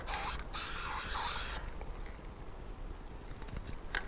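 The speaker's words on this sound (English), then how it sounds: "One of the smartest things that you can do is always do a test spray" Matte black spray paint hisses from an aerosol can in a short test burst, a steady close spray lasting about a second and a half, followed by quieter rattling and faint handling noises.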